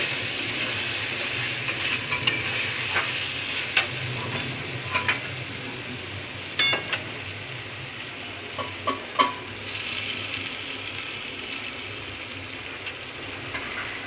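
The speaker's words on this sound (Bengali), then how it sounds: "ভাজা আলুটা আমি এখানে দিয়ে দিলাম, দিয়ে একটু মশলাটা কষাই" Fried potatoes stirred into spiced masala in a kadai for a Bengali katla kalia, a steady low sizzle with scattered sharp scraping clicks from a spatula, no talking.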